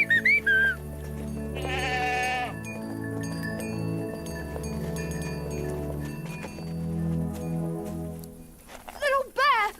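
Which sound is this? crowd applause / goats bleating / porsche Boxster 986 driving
goats bleating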